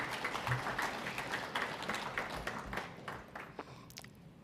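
Audience applause at an investment summit comes across as faint, distant clapping from a crowd, a steady patter that gradually thins out toward the end.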